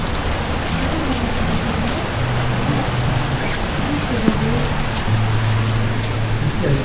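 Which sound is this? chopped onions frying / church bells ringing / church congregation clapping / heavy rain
heavy rain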